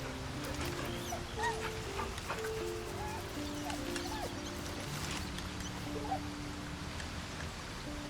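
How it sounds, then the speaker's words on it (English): A dog whimpers in Baldur's Gate 3, a few soft whines and yips scattered over the game's steady music and rainy ambience. "the dog made it here."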